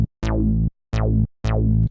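Three loud, hard-struck notes of the Rubber BS2 bass preset at high velocity for a West Coast sound, each a bright, buzzy attack that sweeps down into a thick, sustained low tone before cutting off, with short silences between.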